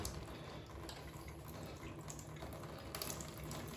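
Water runs from a leaking mixer tap, a faint steady hiss and trickle heard close by without speech.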